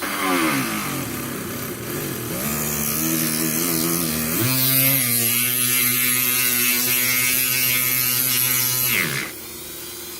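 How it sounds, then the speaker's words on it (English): A Dremel rotary tool drills and grinds into a spondylus shell bead, its loud whine holding steady, then dropping in pitch under load for several seconds before easing off near the end, with no talking. "drilling or grinding for 5 to 10 seconds"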